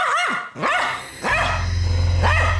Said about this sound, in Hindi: उस आश्रम के पास एक हट्टा कट्टा कुत्ता आ गया